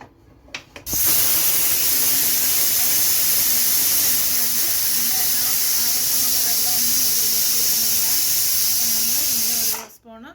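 A pressure cooker on the stove hisses out a loud, continuous jet of steam while Kerala ozhichu curry cooks, starting abruptly and holding steady for about nine seconds before cutting off, with a faint voice beneath it.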